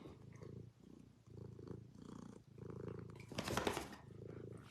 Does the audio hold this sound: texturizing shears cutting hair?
no